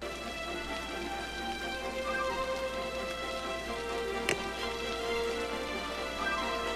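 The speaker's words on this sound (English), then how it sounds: "Oh, look, it's raining again." Steady rain patters and hisses in the city-building game Cities: Skylines, a dense, even wash of falling drops throughout with one brief sharper tick, and no talking.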